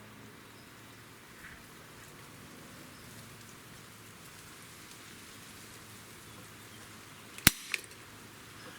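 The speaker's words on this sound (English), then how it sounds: "let's test out our SIG, our SP2022 for some pull weight as far as the trigger goes" A SIG Sauer SP2022 pistol trigger is pulled against a Lyman trigger gauge, giving one sharp, close metallic snap followed moments later by a softer click, over a quiet hiss of room noise.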